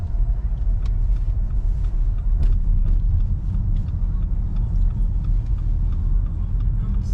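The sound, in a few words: car driving on road out of Flagstaff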